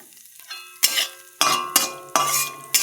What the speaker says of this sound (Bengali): এত জোর জোর ফাটে কাঁচা লঙ্কা